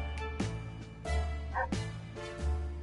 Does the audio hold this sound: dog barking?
yes